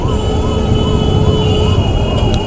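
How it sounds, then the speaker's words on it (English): An ambulance siren wails in a repeating up-and-down pattern on a busy city road near a metro line and underpass, loud and steady over the rumble of traffic, with a faint high tone running alongside. "Oh, guys, this is a ambulance."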